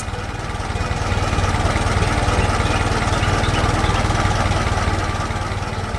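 A small tiller engine on a farm runs steadily with a throbbing, chugging drone, close and constant, swelling slightly in the middle.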